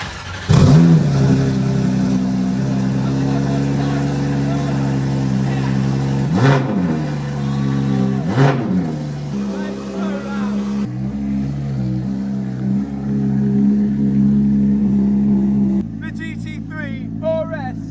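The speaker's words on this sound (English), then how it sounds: "And this car is insanely loud." A loud engine drones steadily, with a couple of sharp revs and surges in pitch, and a voice speaks over it near the end.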